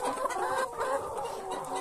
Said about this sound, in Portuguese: Olha só nossas galinhas aí.